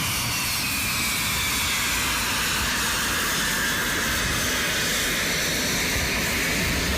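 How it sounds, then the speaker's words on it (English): Aero L-39 Albatros jet trainer, built in Czechoslovakia by Aero, flying past with a steady, broad jet roar that holds evenly throughout, sounding fairly distant and with no voices. "This is a high-performance jet trainer. This was developed in Czechoslovakia by Aero."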